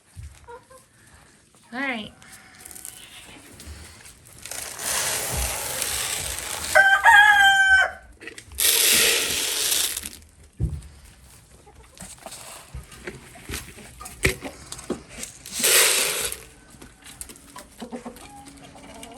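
Chickens cluck on and off while a rooster crows loudly several times nearby on a small homestead during a winter storm, with bursts of rustling noise and a person speaking briefly.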